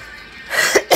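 Two short, sharp coughs close to the microphone near the end, following a moment of quiet room sound.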